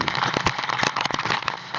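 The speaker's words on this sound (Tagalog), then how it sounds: "lalakas ng ulan" Heavy rain pours during a storm, a dense, crackling patter of drops striking a surface with irregular louder bursts, close and continuous throughout the short stretch, with no voices.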